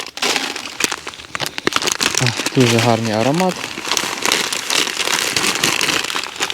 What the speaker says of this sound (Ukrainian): Ось це в нас, друзі, від Anvi Fishing, прикормочка наша коріандр ваніль і лящ по одному пакетику висипаємо.